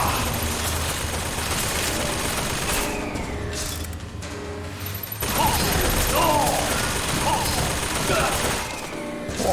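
Gunfire in the BioShock Infinite game: a steady crackle of rapid shots with booming impacts, loud throughout and heaviest in the second half, mixed with game sounds and a voice in the background.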